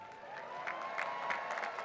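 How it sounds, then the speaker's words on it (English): Graduates at a 2017 college graduation ceremony cheer and clap for their parents, a short burst of crowd applause and scattered cheering heard from some distance in a large hall. "raise your caps once again and cheer to your parents and relatives who have done so much to help you reach this milestone"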